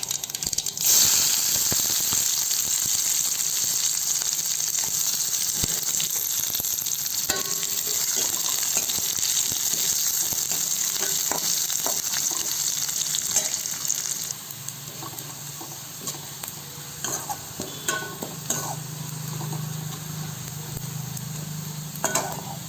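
Mustard seeds crackle and sizzle in hot oil for dal, a steady bright frying hiss that runs throughout, with scattered pops and clinks; partway through the tone deepens as more goes into the pan and the sizzle turns lower and heavier.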